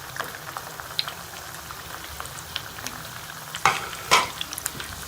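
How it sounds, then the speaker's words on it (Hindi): Potato balls fry in hot oil with a constant close sizzle and light bubbling, punctuated by two louder crackling bursts as more pieces drop in. "आलू के बॉल्स जो हैं इनको फ्राई कर लेंगे।"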